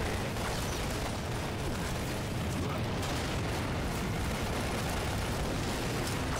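In the video game Lost Planet: Extreme Condition, a dense barrage of explosions and booms rumbles without pause, loud and heavy with no quiet gaps, suggesting a battle nearby.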